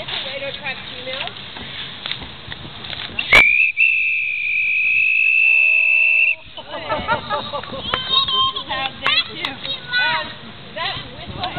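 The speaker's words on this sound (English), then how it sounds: "Blow the whistle." A trainer's whistle at a sea lion show at the New York Aquarium gives one sharp, steady blast of about three seconds, with crowd chatter and talk before and after it.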